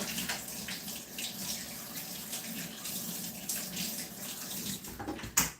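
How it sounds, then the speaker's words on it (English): Running tap water splashes steadily at close range as hands are washed under it, a soft continuous hiss with small fluctuations and a brief louder splash near the end. "I'm going to wash my hands off a little bit."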